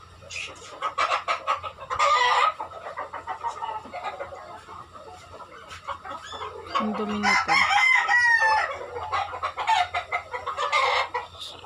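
Chickens cluck and squawk constantly while a rooster crows loudly partway through, with a person speaking briefly over the farmyard noise.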